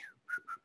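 A person whistles a short imitation of a towhee's song, a quick descending slur followed by two clear, sustained notes, faint and brief with no talking.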